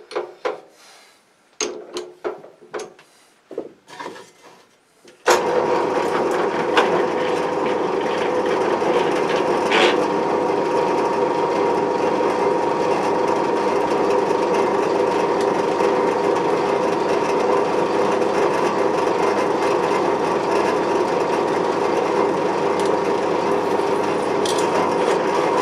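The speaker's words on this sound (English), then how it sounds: "I'm going to put a 4mm pilot bit through, just to give me a hole through" Drill press boring a 4mm pilot hole through a metal flag pole bracket for a Land Rover. A few sharp knocks are followed by a loud, steady grinding whir that runs without a break.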